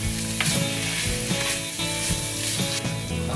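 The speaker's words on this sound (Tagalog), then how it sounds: "I-stir fry o pan-fry ko na itong ating chicken hanggang sa maging brown siya." Chicken pan-frying in butter and a little oil sizzles steadily and close by, with stirring clatter at intervals and no talking.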